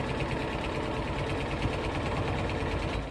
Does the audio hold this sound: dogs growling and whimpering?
no